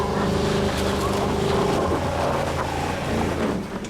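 A buried, broken Range Rover drives itself out of a dug hole under its own power, its engine revving in a loud, rough, continuous roar with strained surges and rumbling throughout.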